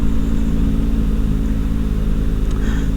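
Steady low engine drone and rumble of heavy road traffic around a Kawasaki ZX4RR motorcycle, a continuous near hum with no talk.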